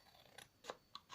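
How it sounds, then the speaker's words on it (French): Scissors snip out a triangle while a small mailing box is being made: three or four quiet, crisp cuts in uneven rhythm, close by, with no talk. "je découpe en triangle"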